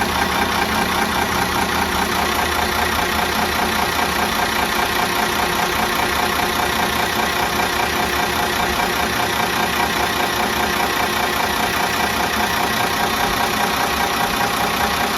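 A Minneapolis Moline G950 tractor diesel engine with a rebuilt Stanadyne DBG rotary injection pump idles steadily, a loud, close, even knocking chug that holds throughout with no talk.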